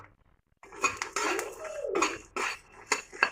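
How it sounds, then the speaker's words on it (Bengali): Peanuts roast in a pan for a puffed-rice snack, with a metal spoon scraping and clattering against the pan in uneven bursts after a short silent start. "তাই একটু বাদাম ভেজে নিচ্ছি"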